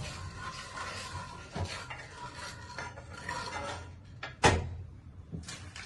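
Poppy seeds dry roasted in a pan without ghee, with scraping and stirring against the metal throughout and one sharper clatter near the end, close and fairly quiet.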